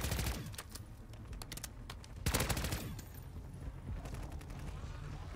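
Rapid automatic SMG fire in MW3 Zombies, a video game, arrives in quick bursts of closely spaced shots with a louder cluster near the middle, set against lighter background game noise.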